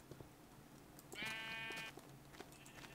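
Sheep in a video game give a single loud, drawn-out bleat mid-way through, surrounded by quieter game ambience and faint clicks.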